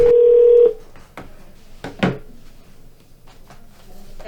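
A single long telephone keypad or dial tone sounds loudly at the start and then cuts off. Quieter clicks and faint shuffling follow over a low background.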